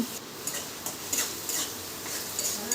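Onion paste being stirred in hot oil in a pan after whole garam masala, with a soft steady sizzle and a few light scrapes and taps of a utensil against the pan.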